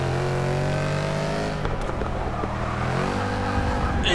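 A BMW M4 with a twin-turbo straight six accelerates hard with its wheels spinning, a loud rising engine roar over a brief burst of tire noise, then dropping to a lower steady drone, close up with no talk.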